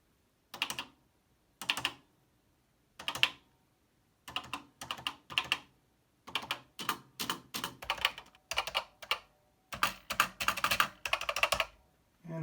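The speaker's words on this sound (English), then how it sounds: "And for comparison, here is an actual PET keyboard." Bursts of clacking keystrokes on a Commodore PET computer keyboard, separated by short pauses, then faster continuous typing, close and crisp.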